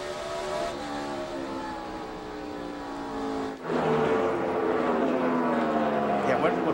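NASCAR Busch Series race cars at the 2006 New England 200 roar around the track, one engine's drone sliding down in pitch, then a louder pass rising again, with commentators talking throughout.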